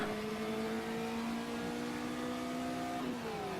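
A VW Fusca race car engine in the Automobilista racing game, steadily revving at high pitch with a shift near the end, continuous and moderately quiet with no talk.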